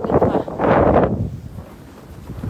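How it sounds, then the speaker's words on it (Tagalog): Strong wind gusting around a house during a blizzard in Estherville, Iowa, buffeting the microphone in loud bursts for the first second before easing to a steady, lower rush. "So yan ang mahangin pa."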